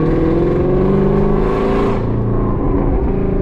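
A loud, raspy V8 exhaust on a Ford Mustang GT350 with catless midpipes revs up and drops back, its deep roar sustained throughout at close range.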